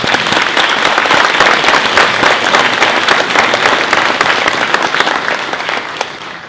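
An audience at an electoral reform town hall meeting breaks into loud, dense applause that holds steady for several seconds before tapering slightly near the end.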